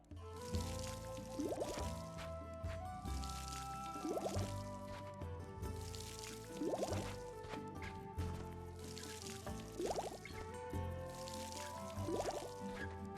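In Winemaker Simulator, grape plants in a 17th-century vineyard are watered. Short, gurgling splash sounds repeat about every two seconds, layered over steady background game music.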